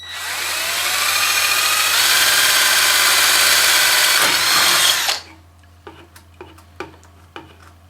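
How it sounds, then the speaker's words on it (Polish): A power drill mounted in a Yato YT-39700 drill stand whines loudly and steadily for about five seconds while drilling, then stops abruptly, followed by several sharp clicks and knocks. "na pewno bardzo mocno ułatwia nam wykonanie wiercenia"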